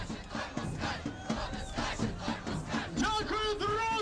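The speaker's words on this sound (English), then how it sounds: "simple but effective tools like catchy sing-alongs and chanting are employed." Crowd chanting at a Ukrainian political rally, a dense mass of voices repeating rhythmic shouts, loud and continuous, with a rising sung or cried phrase toward the end.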